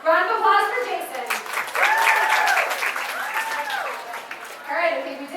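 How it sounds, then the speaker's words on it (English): Audience applause at a party event, a steady round of clapping across the whole stretch with voices and cheers rising over it, a few whoops standing out partway through. "Round of applause for Jason."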